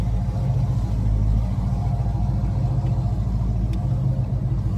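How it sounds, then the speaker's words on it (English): A loud car engine idles close by with a deep, steady rumble and a pulsing low throb that holds unbroken from start to finish. "I want to see how this cop is going to react to my loud ass car"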